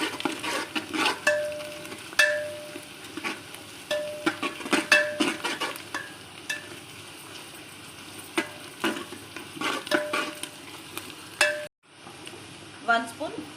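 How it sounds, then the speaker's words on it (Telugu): Peppercorns, long pepper and cumin fry in a pan for a mutton marag, with a steady sizzle under frequent sharp scrapes and clinks of a spoon stirring against the metal. A brief pause comes near the end before the frying resumes. "1 స్పూన్ మిరియాలు, 1 స్పూన్ తోక మిరియాలు, 1 స్పూన్ జీరా అండి, సాజీరా వేసేసి ఫ్రై చేసుకోవాలి"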